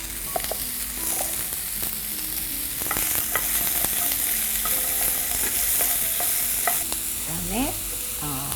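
Sliced onion and zucchini fry in a pan with a continuous close sizzle, while a utensil stirs and scrapes in repeated short strokes for several seconds.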